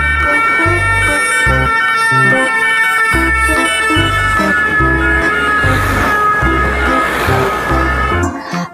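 A toy police ambulance car plays a loud electronic siren wail over a rhythmic beeping pattern, close up and continuous for several seconds before cutting off.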